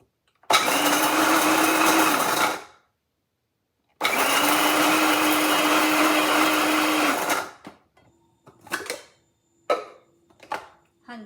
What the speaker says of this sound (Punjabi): ਪਿਸਤਾ ਹੈਗੇ ਆ ਇਹ ਵੀ ਆਪਾਂ ਗ੍ਰਾਈਂਡਰ ਦੇ ਵਿੱਚ ਪਾ ਕੇ ਤੇ ਇਹ ਪੀਸ ਲੈਣੇ ਹੈਗੇ ਆ